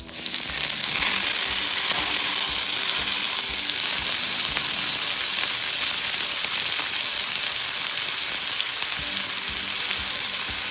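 Vegetables hit hot oil and melted butter in a pan and burst into a loud, dense sizzle that holds steady and close, with faint stirring beneath.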